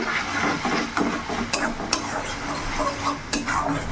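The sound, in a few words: stirring ginger garlic chili paste into tomato and onion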